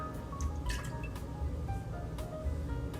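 Sweet vermouth, one ounce, poured into a Negroni cocktail, giving a soft continuous liquid trickle with light dripping over a steady background hum.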